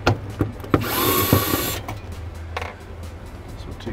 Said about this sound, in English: Drill's not wanting to work too well today.